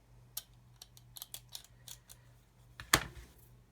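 Small plastic parts of an Airfix 1/32 scale Humber armoured car kit are cut from the sprue with a hobby knife, giving a series of faint close ticks and clicks followed by one sharp snap near the end.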